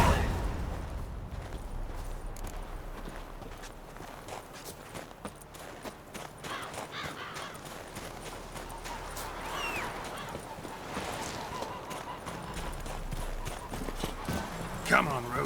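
A horse gallops in the Witcher 3 video game, its hooves clip-clopping in a steady rhythm under ambient game sound, with voices talking over it.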